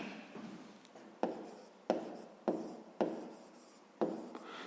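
A pencil scratches across paper while maths working is written out: short, soft strokes repeat in a steady series of about six close scrapes, each with a sharp start that fades away, with no talk.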